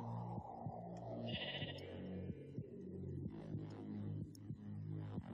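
Sheep in Minecraft bleat over a steady, looping in-game music track, with a couple of distinct bleats standing out near the start of the clip and further bleats following close behind.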